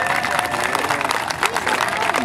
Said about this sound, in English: Let's get a big round of applause for Richard over here